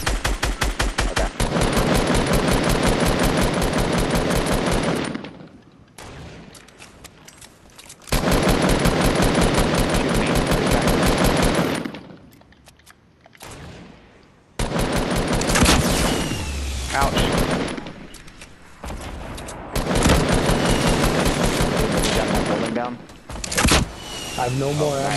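Sustained bursts of minigun fire from a video game squad match, several long loud stretches separated by brief pauses, with players talking over the action.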